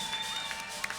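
A live concert crowd at Salvage Station in Asheville, NC, applauds and cheers in a dense, continuous wash, with a few louder shouts rising near the end.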